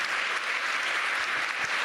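Steady applause from a conference audience, a dense wash of clapping that fills the room at an even, moderately loud level throughout, with no voices standing out.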